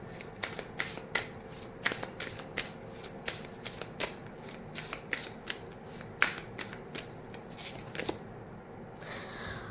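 A deck of cards is shuffled for a tarot-style reading, with repeated crisp riffling snaps and ruffles in a steady rhythm up close, no talking, ending in a softer brushing sound.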